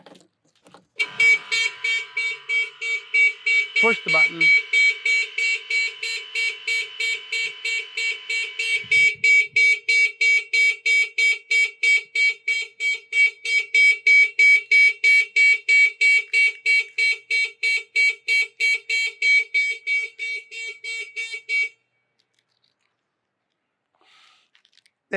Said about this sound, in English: Let's set the alarm off.